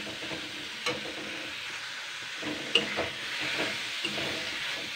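Boiled potato and spring onion are mashed and stirred in a pan for pyaj koli vorta: a soft, low sizzle broken by scattered scraping clicks and one sharper knock of the utensil.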